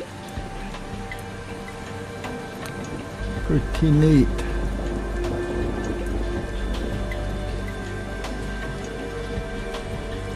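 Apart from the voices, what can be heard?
rain drops hitting a driveway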